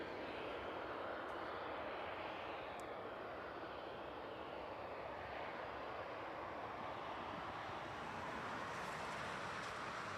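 At night at East Midlands Airport, an AeroLogic cargo aircraft taxis and turns onto runway 27, its engines a steady, broad roar heard from a distance at an even level throughout.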